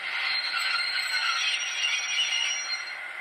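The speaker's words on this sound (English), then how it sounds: "we can cue the brake squeal." A steady high-pitched metallic squeal hisses continuously, like train brakes grinding, fairly loud and sustained without pause; a model locomotive's sound decoder playing its brake squeal.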